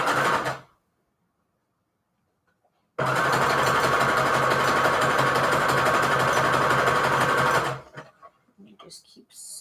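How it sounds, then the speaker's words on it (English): A sewing machine stitches Christmas fabric and lace trim in one loud, steady run lasting several seconds, with short quieter handling noises before and after and a silent gap beforehand. "Just keep sewing."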